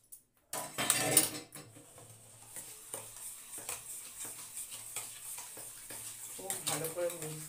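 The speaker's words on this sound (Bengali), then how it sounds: "ভালো করে মিক্স করতে হবে।" Egg being whisked into cake batter in a bowl for a homemade birthday cake, with repeated scraping and clinking strokes of a utensil against the bowl, moderately loud and steady after a brief burst of handling at the start.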